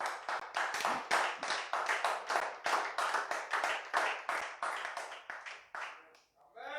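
A church congregation claps in praise of the Lord, a steady run of loud, quick handclaps that keeps going without pause and fades briefly near the end.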